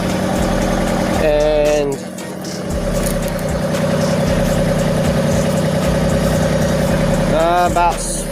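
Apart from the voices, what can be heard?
LS MT226 tractor backhoe engine idling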